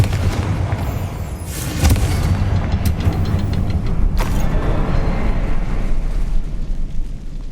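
Confringo blasting spell going off in the Hogwarts Legacy video game, a loud booming explosion with a rumbling low roar that builds and sustains, sharp cracks near two and four seconds, and a dense debris-like crackle throughout.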